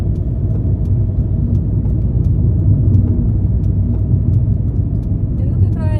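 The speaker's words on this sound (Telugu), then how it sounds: "ఎందుకు ఇక్కడ ఇంత ట్రాఫిక్ ఉంది?" Road traffic on a street in the USA, with a steady, loud, low rumble of cars passing close by continuing throughout.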